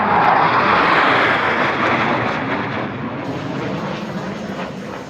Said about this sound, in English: Angels 5 and 6 are approaching the flight line at 400 miles per hour